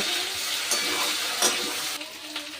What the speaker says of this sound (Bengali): এক চামচ হলুদ গুঁড়ো এবার ভালো করে আমি কষিয়ে নেব